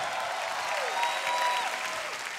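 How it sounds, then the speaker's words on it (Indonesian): Audience applause at a Stand Up Comedy Indonesia show, a dense, loud, sustained clapping from a large crowd with no voices over it, holding steady to the end. "tepuk tangan sekali lagi untuk Babe"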